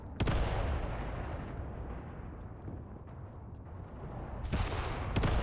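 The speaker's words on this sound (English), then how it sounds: "Here I can see their infantry mortars working" Infantry mortar fire in the war game Mius Front, with heavy booming impacts at the start and end over a rumbling battlefield and scattered distant crackles of gunfire.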